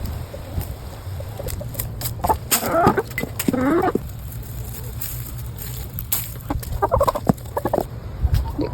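Chickens cluck in short bursts nearby, with a steady low hum underneath and occasional rustling.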